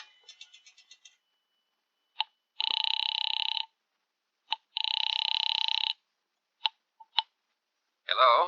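Rotary telephone being dialed in an old radio drama: a series of quick clicks, then several long, steady ringing bursts separated by short clicks and pauses, clear and close with no talk.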